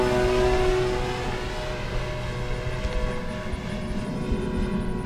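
Banana Hobby / LX Models B-25 79-inch RC warbird with open bomb bay doors droning steadily overhead, a continuous twin-motor hum that stays fairly loud throughout with slight swells.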